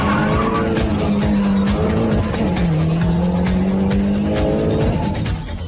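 A Mini Cooper race car spins out on a circuit, its tires squealing and skidding loudly in long sustained screeches over the roar of engines in a racing pack.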